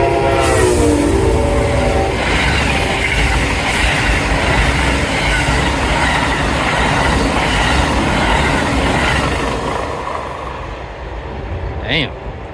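A train passes along a railroad beside a Florida roadwalk: loud, steady rumble and rolling rail noise filling the scene, with a brief horn-like tonal sweep near the start and another near the end as the sound eases off.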